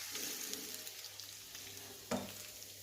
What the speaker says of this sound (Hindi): लहसुन को इसमें लाइट गोल्डन ब्राउन कलर होने तक फ्राई होने देना है